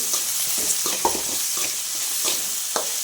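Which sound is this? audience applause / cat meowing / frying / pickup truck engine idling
frying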